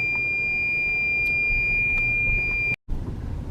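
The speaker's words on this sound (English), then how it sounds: "it usually makes that noise in case if there's an object or something too close to my car" A car's proximity sensor sounds one steady, continuous beep tone at a drive-through safari park over constant vehicle rumble, then cuts off abruptly near the end.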